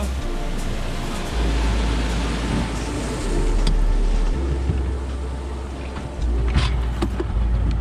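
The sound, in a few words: sea wave approaching speed boat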